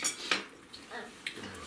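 Light clinks and scrapes of wooden spoons against dishes of homemade pelmeni come in a few scattered taps, close by, with faint voices in the background.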